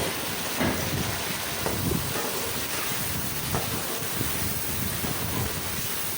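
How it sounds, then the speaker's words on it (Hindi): Mutton pieces taken out of a yakhni broth fry in a pan for Banarsi pulao. A dense, even hiss of loud frying runs throughout, with faint crackles and scrapes, close up and with no voices. "इसके अंदर ये जो अभी मैंने बोटियाँ अलहदा की थी यखनी से उसको डाल के अच्छा सा भून लेंगे"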